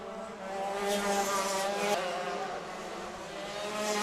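Stock Honda race cars lap a road course at the Lone Star Grand Prix, their engines droning steadily at a distance with a sustained, slightly rising whine and no talk over it.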